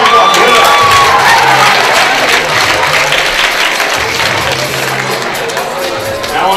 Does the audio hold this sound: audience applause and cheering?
yes